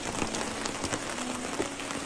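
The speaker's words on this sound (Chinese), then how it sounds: "这个大雨啊是一直没有停过。" Heavy rain pours onto a tent at an outdoor fishing camp during a storm, a dense, continuous drumming patter close by with no voices.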